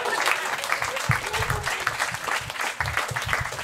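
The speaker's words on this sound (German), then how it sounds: "Mal gerne mal Applaus für diese, ich weiß nicht, was das ist." A stand-up comedy show audience applauds in a dense, steady wash of clapping that holds throughout, with a voice briefly audible underneath.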